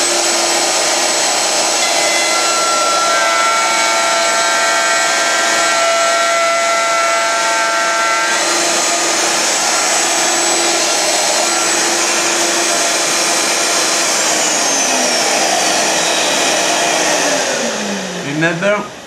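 Router cutting a quarter-inch-deep dado in wood, a loud steady high-pitched whine with cutting noise held for most of the stretch before the motor spins down at the end.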